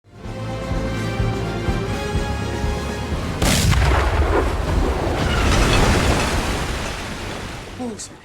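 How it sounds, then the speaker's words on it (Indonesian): Heavy booming cannon blasts from a naval battle at sea roll over a dense, rumbling battle din, with a sharp loud burst partway through and people talking underneath. "kapal Going Merry masih sempat bertahan dari serangan meriam-meriam marinir."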